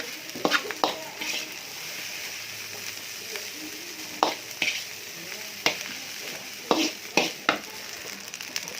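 Chicken nugget fried rice being stirred in a pan, a low steady sizzle with scattered metallic scrapes and taps of the spatula, clustered near the start and end, close by.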